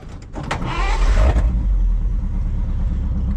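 A 1948 Pontiac Silver Streak engine cranks and catches, then settles into a loud, close, steady low idle with an even rhythmic throb.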